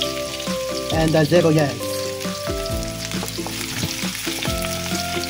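Garlic sizzles in a hot pan while being stirred, a steady crackling fry with a louder burst early on, accompanied by background music and a brief spoken voice.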